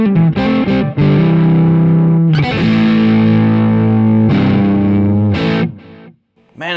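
An electric guitar plays through heavy overdrive, with a few short picked notes and then long sustained distorted chords ringing out loudly before cutting off.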